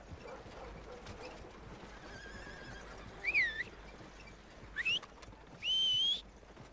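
Horse whinnies from Red Dead Redemption 2 ring out in three short rising calls over a steady low outdoor game ambience, the last one longest and loudest.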